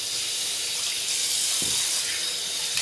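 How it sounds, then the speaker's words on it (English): Tap water runs steadily into a sink while a cartridge razor and a shaving-cream-covered face are rinsed, giving a continuous close hiss with no pauses. "A quick rinse of the face."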